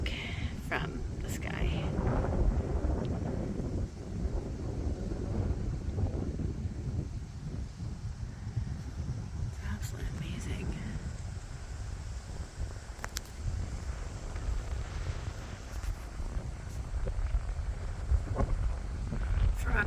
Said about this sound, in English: Oh, it's so windy.